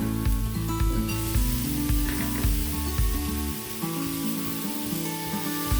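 Chopped tomatoes hit hot fried masala in a pan while a drumstick-pod curry is being made, setting off a loud, steady, close sizzle that runs the whole time with no talking.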